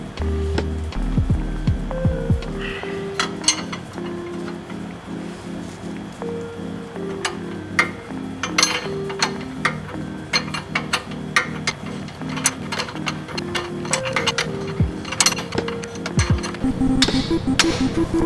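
A wrench works on the bottom strut bolt of a Mercury Grand Marquis, making a series of sharp metallic clicks and clanks spread unevenly over a low background hum.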